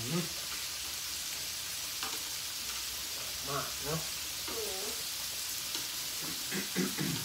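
Steady sizzle of pork neck and pork belly grilling on a Thai grill pan fills the background while someone talks intermittently over it, close and moderately loud.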